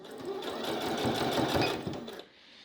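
A sewing machine runs steadily as it stitches over a seam, with a small piece of paper under the presser foot to steady it; the close, even whirr continues for about two seconds and then stops.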